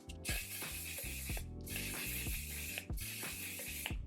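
Repeated hissing bursts of makeup setting spray, three long sprays in quick succession, close up over a rhythmic mechanical rattle in the background.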